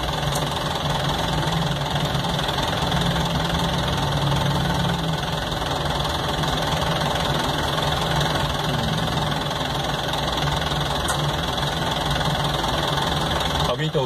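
A Chevrolet D20 pickup engine idling nearby with a steady, low, rough drone and a slight knocking texture, continuous and unchanging from start to finish, with a voice talking over it.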